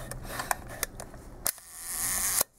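Shutter of a 1953 Leica IIIf Red Dial rangefinder camera, overhauled, firing at a slow 1-second speed: a sharp mechanical click to open, then a second click about a second later, amid a few small handling ticks and a steady hiss.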